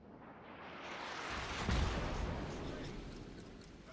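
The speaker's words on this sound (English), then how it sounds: "And it looks like he's shooting high explosive." Naval gunfire from a Nelson battleship shooting high-explosive shells in World of Warships, a broad rumbling boom that swells to a heavy blast near the middle and then rolls away, with commentary voice under it.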